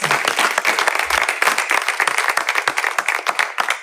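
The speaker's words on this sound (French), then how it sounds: "est-ce qu'on peut applaudir pour cette belle performance?" Audience applause at a Paris press conference, dense clapping from a crowd, loud and steady for the whole stretch with no talk over it.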